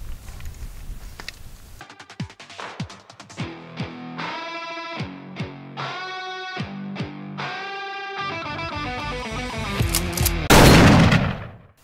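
Rapid string of sharp rifle shots from a Ruger American Gen II Predator in .223 Remington, loud and close, fired at a steady rhythm with ringing echoes between reports and a heavier burst near the end.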